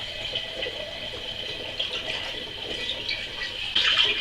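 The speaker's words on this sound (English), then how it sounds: "in it I'm going to put 2 cheeky liters of water" Water pours steadily into a jug, about two liters, with a hollow, rising gurgle that grows slightly louder near the end.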